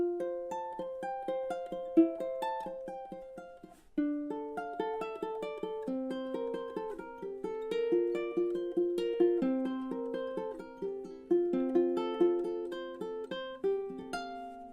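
A ukulele plays a fingerpicked tune, a steady run of bright plucked melody notes over chords, close and clear with no talking.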